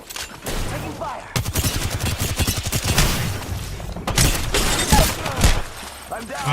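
Rapid gunfire bursts from the Free Fire video game crackle through most of the clip, dense volleys with brief gaps, loud and close, mixed with in-game voices and players talking over the action.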